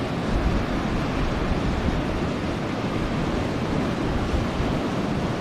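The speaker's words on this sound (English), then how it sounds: "We've got two waves that have merged here." Ocean waves merging and surging against coastal rocks, a steady roaring wash of surf with wind noise, continuous and fairly loud throughout with no talking.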